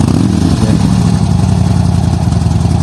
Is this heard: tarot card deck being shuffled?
no